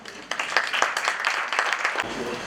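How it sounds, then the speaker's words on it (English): Presentation competition audience applauds a team, a short burst of clapping from a crowd at moderate loudness that cuts off after about two seconds. "Please give a big round of applause to the team led by Yumira Chandra"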